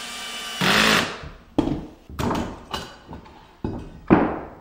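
Kreg washer head screws driven into a pocket hole joint in trim carpentry, a power driver whirring in several short bursts, each ending with a sharp thud as the screw seats, close up with pauses between.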